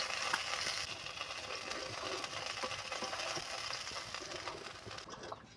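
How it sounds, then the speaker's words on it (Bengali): Two fish frying in hot oil until crispy, being turned over in the pan, with a dense, steady sizzling crackle filling the whole stretch at close range with no talk. "উল্টে পাল্টে আমি খুব সুন্দর মুচমুচে করে ভেজে নেবো মাছ দুটো খুব সুন্দর মতো ভাজা হয়ে গেছে"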